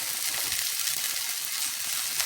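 Spice masala of turmeric, cumin powder and ginger paste frying in a pan, a dense continuous hiss of sizzling oil, close and steady with no talk.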